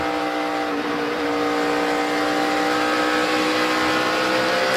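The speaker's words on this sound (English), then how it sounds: "Listen to Clint work that throttle there in the middle of the corner across the bumps" A NASCAR stock car engine at Texas Motor Speedway roars loud and steady as the driver modulates the throttle mid-corner over bumps, the tone wavering slightly without letting up.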